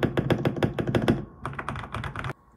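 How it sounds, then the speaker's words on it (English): Rapid clacky keystrokes on a custom mechanical gaming keyboard, a dense burst of taps, then a slightly lighter run of typing before it stops abruptly. "can we get a custom mechanical gaming keyboard like this?"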